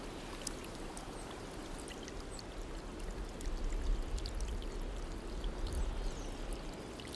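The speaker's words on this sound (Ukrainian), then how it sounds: "На шляху трапляються досить дивні потічки. Води тут багато." Small mountain stream in the Carpathians, water trickling and pouring steadily over stones, soft and continuous, nearby but fairly quiet, swelling slightly midway, with no voices.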